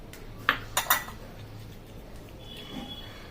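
A spoon clinks against a bowl a few times while onion paste, green chili paste and ginger-garlic paste are stirred together for chicken fry, three quick close knocks early on, then quiet.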